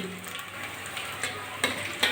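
Coconut and water spinach fritters being turned over in hot oil in a wok, a constant close sizzle with a few soft scraping and stirring clicks toward the end.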